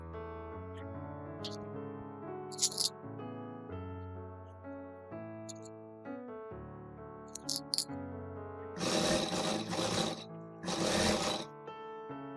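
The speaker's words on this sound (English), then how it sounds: "sew from the sleeves down to the hem" A sewing machine stitches a dress from sleeves to hem in two short, buzzing runs, heard over steady melodic background music.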